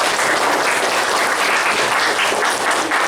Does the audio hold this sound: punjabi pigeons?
no